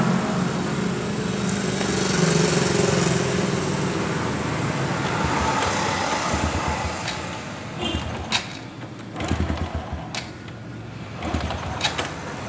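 A Honda Supra Fit New motorcycle engine with a knocking fault when the throttle is released, idling and revving nearby, then dropping into uneven sputtering thumps and knocks near the end.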